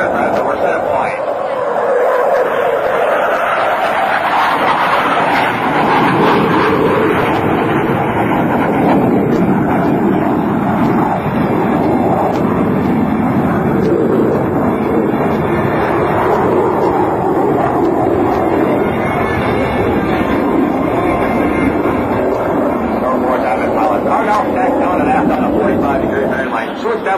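US Navy Blue Angels jets making a high-speed pass at a 2007 Rhode Island Air National Guard open house air show, a loud sustained roar that swells and lingers with wind buffeting, under a public-address announcer's commentary.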